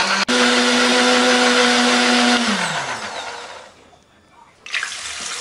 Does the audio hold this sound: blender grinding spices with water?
yes